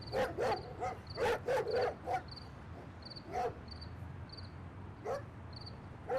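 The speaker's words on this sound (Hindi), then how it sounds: "तेरी क्यों जान निकल जाती है कुत्ते की आवाज सुन के?" A dog barks repeatedly in short bursts, a few sharp barks clustered early and a couple more later, fairly close, over a low steady background hum with a faint high insect-like tone.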